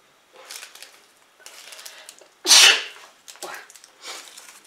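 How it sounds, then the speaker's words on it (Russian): One sharp, loud sneeze bursts out indoors in a kitchen while dessert is being prepared, framed by soft breathy sounds and quiet handling noises before and after. "Ой, сейчас чихну."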